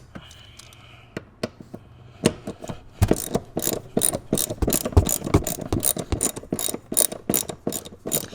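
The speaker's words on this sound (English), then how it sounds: "Now we got the first bolt out. Let's move on to the second one" A hand ratchet removes a bolt during a subwoofer install: a few scattered clicks at first, then a fast, loud run of sharp ratcheting clicks up close.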